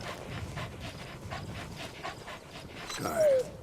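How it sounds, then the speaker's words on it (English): A dog in Metal Gear Solid V: The Phantom Pain pants steadily and rhythmically at close range, with soft whimpering and a brief higher whine near the end, no voices present. "Good dog."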